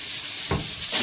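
Capsicum and tomato sizzle in a hot pan while pasta is being cooked, a short steady hiss with a slightly louder burst midway and another near the end.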